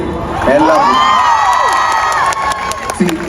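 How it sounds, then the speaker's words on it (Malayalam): Crowd at a college in Bangalore cheering and whooping loudly, high shouts and yells swelling over a bed of clapping, close and energetic. "നിങ്ങൾ ഇത്രയും ക്ഷമിച്ചിരുന്നതിന് നിങ്ങൾക്കൊരു കയ്യടി"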